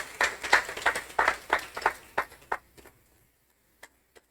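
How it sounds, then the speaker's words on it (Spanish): Church congregation clapping in praise, a burst of irregular claps that thins out to a few scattered last claps before quiet. "si quiere bríndele un aplauso al Señor con alabanza"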